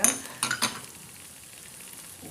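Butter melts in a pan for vegetable pasta: a few quick utensil clinks at the start, then a soft, faint sizzle carries on alone.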